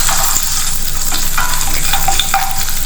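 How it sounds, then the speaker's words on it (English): Chillies and curry leaves sauté in hot oil for a spicy brown chana masala, giving a steady, close sizzle and frying crackle with occasional stirring scrapes throughout. "saute it for a little while till the chillies and the curry leaves are cooked"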